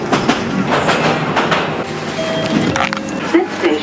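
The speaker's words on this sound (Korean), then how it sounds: "운전 못하거나 게으르면 지하철 타고 가야 돼요" A London Underground train ride, with the steady rumble and clickety-clack of carriages and brief wheel squeals, loud and close, while people talk nearby.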